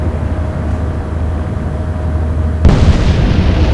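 A torpedo strikes a warship in the Atlantic Fleet naval battle game, a sudden heavy blast cutting in over a low, constant engine and sea rumble and leaving a louder, rougher roar afterward.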